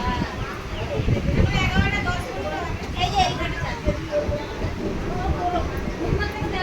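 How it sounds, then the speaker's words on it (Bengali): Rumbling interior of a moving passenger train travelling from Bagbazar beside the Ganga, with steady broadband rattle and hum throughout while a crowd's murmur and voices talk over it. "দেখো গঙ্গা ট্রেনে আছি"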